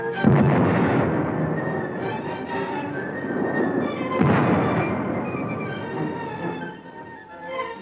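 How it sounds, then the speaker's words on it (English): Repeated gunfire and rumbling blasts from the 1939 attack on the Polish post office in Danzig, recorded on archival film, forming a dense, continuous rattle with sharper bursts near the start and midway, with no talking. "They're entrenched in the city's post office and under repeated fire of Nazi-trained militiamen."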